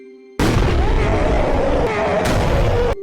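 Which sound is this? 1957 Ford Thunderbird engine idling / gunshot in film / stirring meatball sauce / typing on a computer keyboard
gunshot in film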